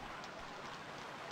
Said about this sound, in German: wenn es hier noch regnet